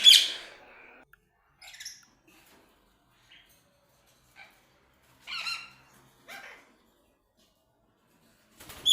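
Pet ringneck parakeets and Java sparrows in an aviary give short, scattered chirps and tweets with quiet gaps between them, fairly close and clear.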